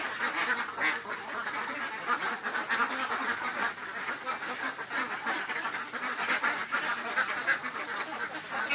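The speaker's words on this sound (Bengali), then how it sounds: "দেখেন হাঁসগুলো কত বড় বড় হয়ে গেছে" A flock of large farm ducks quacks continuously, a dense overlapping chorus of calls, steady and moderately close, with no talk.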